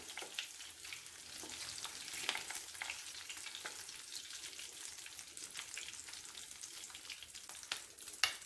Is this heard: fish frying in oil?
yes